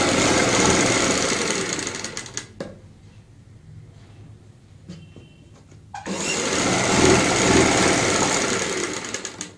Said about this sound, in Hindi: तो हम एक साइड से सिलाई लगाएंगे ऐसे और सेंटर पॉइंट का ध्यान रखेंगे।